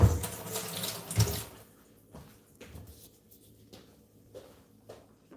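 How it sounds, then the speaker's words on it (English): A kitchen tap runs briefly as a knife is rinsed under it, a loud gush of water in the first second or so, then quieter splashes and clinks at the sink. "We're going to rinse the knife off really quick."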